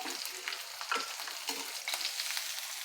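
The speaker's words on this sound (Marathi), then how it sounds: "कांदा परतून घ्यायचा आहे" Chopped onion with curry leaves sautéing in oil in a pan for a sprouted moth bean curry, a steady close sizzle broken by repeated scraping stirs of a spatula, with no talking.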